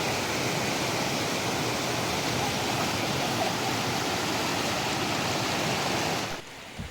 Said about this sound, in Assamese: এয়া দেখিছে জীয়াধান নদী কি কাল ৰূপ লৈছে।